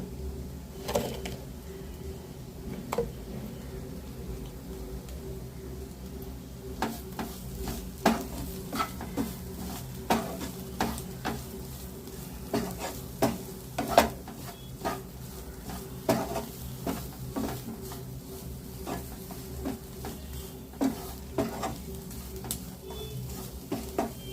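Cauliflower sautéing in a pan for a cauliflower poriyal, stirred now and then with soft scrapes and clinks of a utensil over a low, steady sizzle, fairly quiet and close, with no voices.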